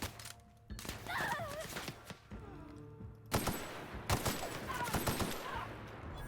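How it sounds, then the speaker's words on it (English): Tactical shotgun from The Outer Worlds firing in a couple of loud bursts with broadband blasts, separated by gaps, with brief vocal sounds in between. "It's the tactical shotgun, right?"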